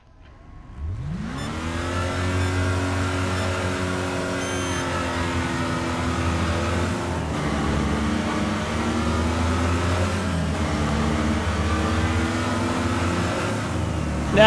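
A Crown Victoria police car engine in Wreckfest starts up and revs into a steady, loud V8 drone, holding a sustained rumbling tone close by for over ten seconds.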